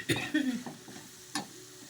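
Tempering spices hit hot oil for paneer fry, giving a couple of short close sizzling bursts with soft stirring clatter, quiet and brief.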